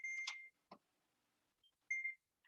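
A kitchen timer beeps in two short electronic bursts, loud and close, with a brief clatter between them and a faint final blip; no one speaks.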